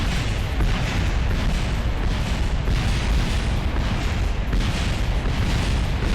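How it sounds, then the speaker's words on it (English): A spacecraft blowing apart in Kerbal Space Program, a sustained loud roaring explosion with rolling, crackling bursts that continue steadily for several seconds. "That is an awesome explosion"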